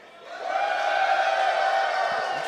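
A packed indoor crowd at a Minnesota Vikings draft party cheers and whoops loudly, swelling quickly into a sustained, dense roar that holds steady throughout.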